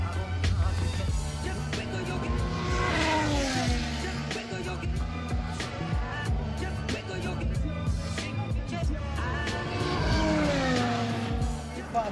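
Formula 1 cars at Monza during a session in which a young Mercedes driver crashes, loud engines screaming and passing with a long rising and falling whine, tire noise and a crowd murmur underneath.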